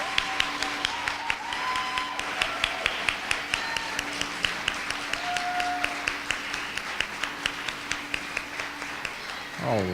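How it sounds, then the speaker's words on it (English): An audience applauds at a junior and senior oratory competition, with scattered rhythmic clapping and a few crowd voices underneath, moderately distant in a hall. "Parents, I think they deserve a great round of applause"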